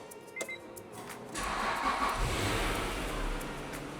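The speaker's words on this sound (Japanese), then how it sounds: "エンジンかけます" A Honda NSX-R's engine starts with a short starter whir, then catches into a steady, rumbling idle that holds close and fairly loud, with no one talking.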